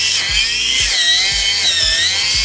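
Procraft cordless string trimmer with its guard removed, cutting through dense shrubs: a continuous high whirring drone with repeated low thumps as the line strikes stems, loud and close, no talk.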